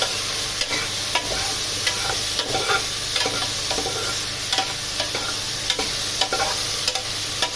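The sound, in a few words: stirring sinigang na buto buto in a pot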